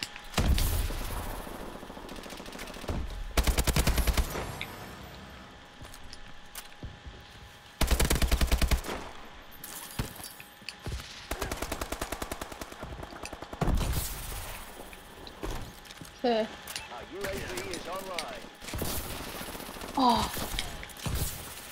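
Call of Duty: Advanced Warfare multiplayer gunfire comes in loud, rapid automatic bursts separated by quieter gaps, with scattered single shots and a brief spoken exclamation near the end.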